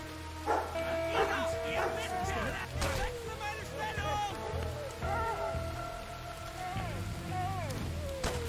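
A dog barking in the WW2 stealth video game War Mongrels, with repeated yips, barks and whimpers spread through the clip over game ambience, while someone talks now and then.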